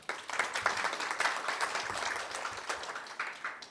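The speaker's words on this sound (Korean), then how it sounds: "여러분 박수로 환영해 주시기 바랍니다." Audience applause welcoming a guest speaker at a conference session on AI, labor, industry and science-technology innovation, steady moderate clapping spread across the room for about four seconds with no talk over it.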